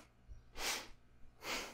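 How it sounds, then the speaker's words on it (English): Two forceful breaths through the nose during Kundalini yoga, evenly spaced and close, each a short rushing burst with quiet between. "All the breathing is through the nose, sniff and throw breath."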